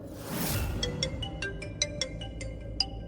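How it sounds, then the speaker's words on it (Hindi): A phone rings with a repeating electronic melody of short bright tones, clear and close, over a steady low background hum. "रौनक जी का फिर से फोन"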